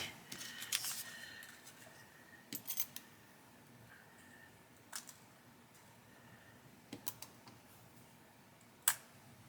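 Paper being cut for an easel card in a quiet craft room, with scattered crisp snips and clicks from scissors or a trimmer in short bursts.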